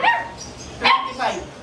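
A German Shepherd puppy barks three times in quick succession, high and yappy, close to the microphone, with short pauses between each bark.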